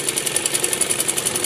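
A sewing machine stitches a salwar seam in a fast, even run of closely spaced mechanical ticks, close and steady with no pauses.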